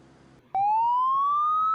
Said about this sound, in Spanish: El sonido es la sirena de un carro de policía.